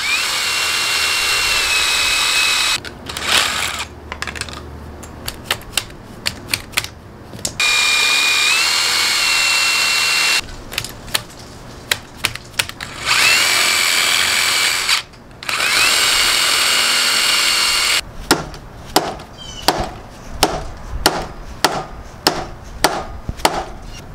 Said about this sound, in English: it still didn't fit, so I gotta grind down some more.